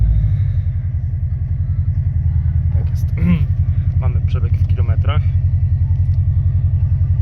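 Subaru Impreza WRX STI, a USA-to-Europe conversion, idling after start with a deep, steady, throbbing rumble close by, while someone talks over it.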